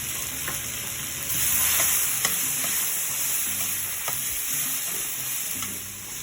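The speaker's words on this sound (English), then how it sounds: "So we cooked the garlic and the spices for a little bit" Garlic and spices sizzling in a pan for Cuban ropa vieja, a steady bright frying hiss with occasional spoon taps and stirring scrapes against the pan.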